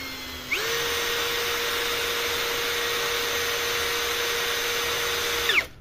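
A cordless MLHY 10 mm impact drill on a Nagawa 6Ah battery runs at speed 2. It spins up to a steady, high motor whine, holds for about five seconds, then winds down.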